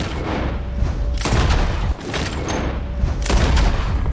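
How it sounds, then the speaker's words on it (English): Rapid bursts of gunfire crack out of a barn during a shootout in Red Dead Redemption 2, loud, dense shots and booming reports piling over one another in quick succession. "The gunshots are coming from that barn!"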